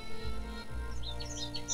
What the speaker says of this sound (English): The birds are making music.